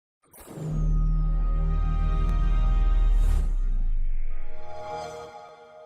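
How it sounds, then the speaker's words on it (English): An Xbox 360 console startup chime: a bright whoosh rising into a deep sustained tone, then a shimmering fade, heard alone and clearly. "it sounds like this kid here was booting up his Xbox 360"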